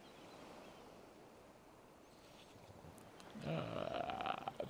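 A dog yawning in a video game, a soft drawn-out whining yawn rising out of quiet near the end, following a faint, low background hush.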